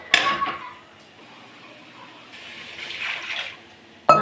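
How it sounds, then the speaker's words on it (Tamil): Water is poured into a cooking pan to boil bitter gourd for a podi mas dish, heard as a splashing burst followed by a soft, continuous trickle and another pour before a clank at the end. "கொஞ்சமாக தண்ணி ஊற்றி வேக வச்சிடணும்."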